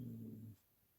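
Lucy the dog gives a low, steady growl for about half a second, faint and close, then stops into near silence.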